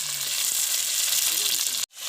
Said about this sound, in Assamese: পিঁয়াজ ভাজি থকা হৈছে তেজপাত দি কিনি